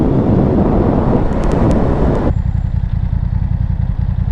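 A BMW F900R motorcycle on a ride, its engine a loud steady low rumble under heavy wind buffeting that suddenly drops away, leaving the drone alone and clearer.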